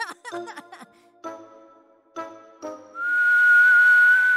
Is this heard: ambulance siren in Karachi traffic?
no